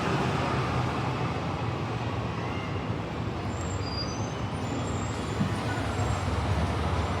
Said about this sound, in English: Another electric bus.